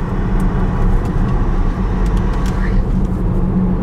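A Porsche Panamera Turbo S, a 680 hp hybrid, cruising on the road with a constant loud engine drone and road roar, steady throughout with no clear change in pace.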